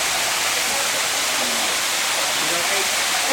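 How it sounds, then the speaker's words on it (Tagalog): A waterfall pours in a dense, unbroken roar of rushing water, loud and steady from start to finish. "Baka yun yung sa waterfalls."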